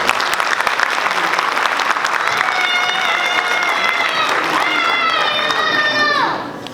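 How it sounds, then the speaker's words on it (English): An audience claps loudly for children who have just performed at a Nepal Night event, a dense sustained round of applause with scattered cheers and children's shouts that fades out at the end. "Let's give a big round of applause for these lovely kids."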